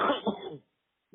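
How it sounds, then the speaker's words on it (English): A sick woman gives a short, muffled cough over a prison phone line, a single rough burst heard close up, followed by silence. "I was trying not to cough when you answered the phone"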